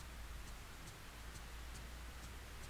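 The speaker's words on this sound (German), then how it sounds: "Und es regnet immer noch, hört ihr das?" Steady rain falls in the survival horror game Project Zero 3, a dense, even hiss that holds at a constant level throughout with no voices over it.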